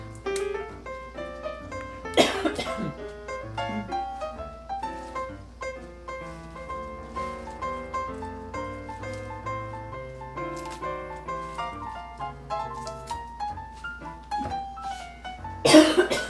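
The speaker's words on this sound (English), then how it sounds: "I promise I'm turning my head as I'm coughing, and I'm coughing into my arm." Two sharp coughs, one early and one at the very end, break over steady melodic background music.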